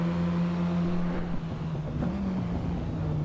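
A race car engine in the racing game Assetto Corsa EVO drones steadily at moderate volume, its pitch holding and wavering slightly as the car runs through a corner, with no talk.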